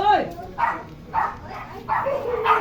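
Dogs bark repeatedly in spaced, evenly timed bursts, moderately close, following a brief higher yelp at the start, with a busy indoor background.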